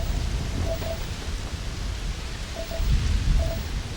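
Rain falls steadily in the video game Starfield, a dense, loud hiss with a low rumble beneath it and a few faint tonal beeps from the game.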